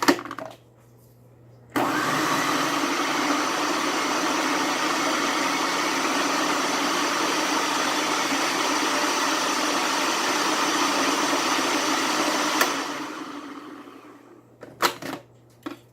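A food processor whirs steadily for about eleven seconds as it chops raw quinoa and couscous ingredients, a loud continuous motor drone starting and stopping abruptly, followed by a few light clatters.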